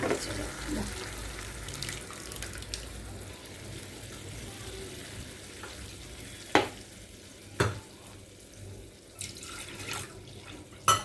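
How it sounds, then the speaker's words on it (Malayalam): Soft, steady sizzling from a hot pan as cooked dal is poured into hot tempering, with a few sharp clanks of a utensil against metal. "പരിപ്പ് ഇതിലേക്ക് ഒഴിച്ചു കൊടുക്കുകയാണ്"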